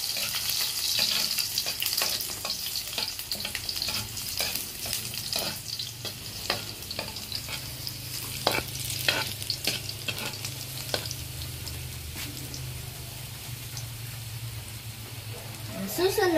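Garlic sautéing in hot oil in a wok for misua with malunggay, a steady close sizzle running throughout with repeated scraping and stirring clicks.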